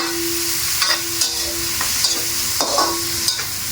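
Chili stirred into a frying catfish dish in a pan gives close, steady sizzling with several scraping, clinking stirs from the spoon against the pan, and no one speaking.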